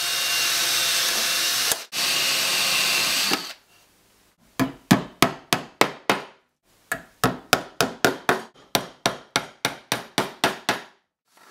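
A metal guard plate is fastened around a 32 mm birdhouse entrance: after a burst of power-tool whirring comes a run of sharp, evenly spaced hammer taps in two groups, close and loud.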